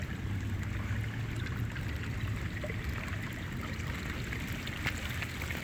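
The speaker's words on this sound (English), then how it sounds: "So you can see we've actually got water coming through this area," Water runs steadily over rocks through a dug trench outdoors during rain, a continuous broadband gurgling and rushing that stays close and even throughout, with no talking.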